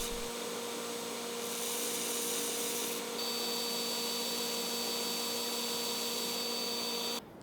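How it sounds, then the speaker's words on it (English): A brass rod spins in a drill while being ground at a slight angle to taper it for a Damascus chef's knife, giving a steady whirring, rubbing grind with a constant motor hum that stops abruptly near the end. "put it in this drill and then start grinding it at a very slight angle"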